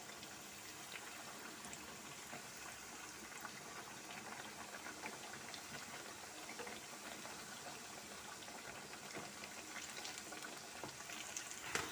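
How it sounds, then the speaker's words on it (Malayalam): Banana fritters (pazham pori) frying in hot oil, a dense continuous sizzle and bubbling that holds steady throughout, with occasional faint scrapes as the fritters are turned and no voices. "അപ്പോൾ നമുക്കിനി പഴംപൊരി ഒന്ന് മറിച്ചിട്ട് കൊടുക്കാം കേട്ടോ."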